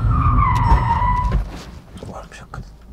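A Seat Ibiza Cupra 1.8 TSI from 2016 slides under its mechanical handbrake, a loud tyre squeal sweeping over engine rumble for about a second and a half before fading, with people talking through it.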